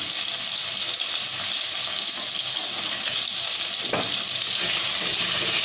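Potatoes fry in a pan with salt and turmeric, giving a close, steady sizzle that holds throughout with a brief clatter of stirring near the end.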